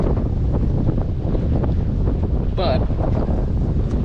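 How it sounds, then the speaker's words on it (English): Outdoors, wind buffets the microphone with a steady low roar throughout, beside a 1978 GMC C30 truck being rinsed ahead of an LB7 Duramax engine swap; a voice speaks briefly over it. "As you can hear, it's windy"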